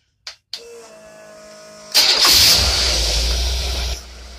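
A gasoline engine fitted with a rebuilt Stromberg single-barrel carburetor cranks briefly, catches, and revs up loudly before settling into a steady close-up run that cuts off near the end.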